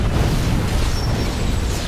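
A grenade blast in the Star Trek Online game: a loud, low, rumbling boom that fills the whole moment with sustained heavy noise and no clear sharp onset.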